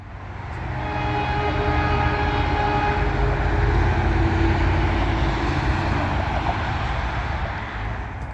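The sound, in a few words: NJ Transit Aero 3 EMU train arriving, blasting its horn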